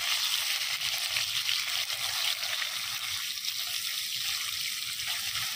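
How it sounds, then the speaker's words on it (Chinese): Cured pork and garlic stir-frying in a pan at an outdoor camp stove on a windless day, a dense continuous sizzle with faint scraping of stirring, steady and close with no talk. "还是炒一个腊肉，来点大蒜子"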